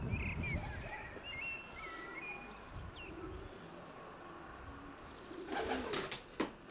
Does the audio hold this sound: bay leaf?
no